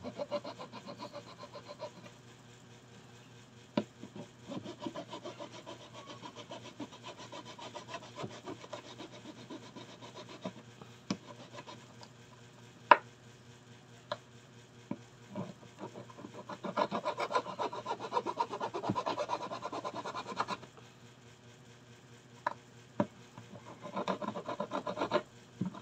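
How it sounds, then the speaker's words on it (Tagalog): A motorcycle ignition key is filed by hand in rhythmic, scratchy rasping strokes, faint to moderate, with a louder stretch midway and occasional sharp ticks over a low steady hum. "So maghahasain ko lang ito."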